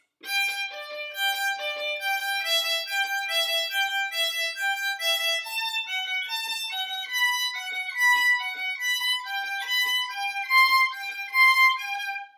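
A violin plays a fast, steady run of bowed notes from Vivaldi's Allegro in G, evenly paced and continuous, bright and clear with no talking.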